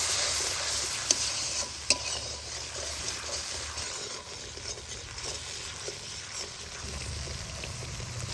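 Spice masala with salt, turmeric and Kashmiri chili powder stir-fried in a pan for a water hyacinth curry, a steady close sizzle with scraping stirs and a couple of sharp utensil knocks, no talking.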